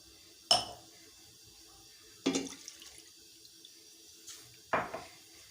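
Milk poured from two quarter-size packets into a cooking pan, heard as three short, separate splashing bursts with quiet pauses between them.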